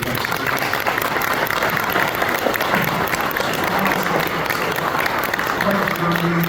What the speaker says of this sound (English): So can we give a round of applause for these